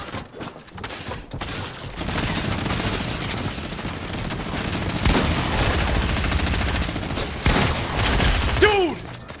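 Rapid, continuous gunshots in a Fortnite Battle Royale solo match, a dense near barrage of automatic fire sustained for several seconds, ending with a few rising whistling effects.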